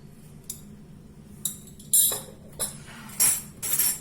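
A spoon clinks and scrapes against a bowl while salt, garlic powder, yeast and oil are mixed for a scented dough, giving a few sharp metallic taps and short scrapes that are close and separated by quiet gaps.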